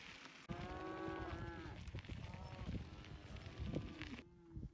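Several cows moo in long, drawn-out calls, some overlapping, against steady outdoor background noise in Wyoming; a final low moo trails off at the end.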